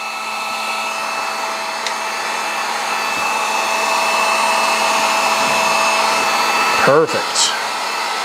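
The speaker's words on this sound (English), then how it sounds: "This spot needs to be heated because it won't stretch down. So we'll pick up our heat gun." A heat gun blows hot air over dirt bike graphics during installation, a steady loud whooshing hiss close to the microphone, briefly interrupted near the end by a short spoken word.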